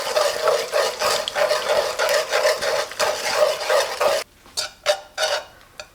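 Beaten eggs sizzle steadily in hot oil in a wok while a spatula stirs and scrapes through them, then the sizzling cuts out and a few sharp clanks and scrapes of the utensil against the pan follow, close and clear.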